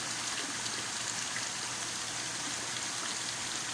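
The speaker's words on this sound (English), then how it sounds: "that is leaking a lot of water on there" Water leaking from a nursery renovation site pours steadily onto a surface with a continuous splashing trickle and a low hum underneath, and no one speaks.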